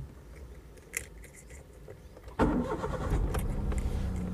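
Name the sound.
car engine starting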